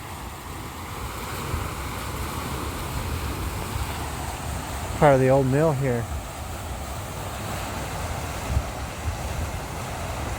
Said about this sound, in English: They turned it into a waterfall.